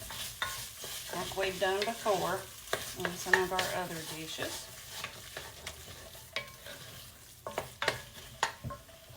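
Goulash being stirred and fried in a pan, steady sizzling with scraping spoon strokes and clinks as the mixture is moved around, close up, with a person talking over part of it.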